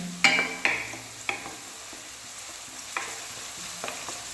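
Baby corn fries in a pan for a Tamil-style recipe, a soft steady sizzle broken by a few sharp clicks of a utensil stirring against the pan, no voices.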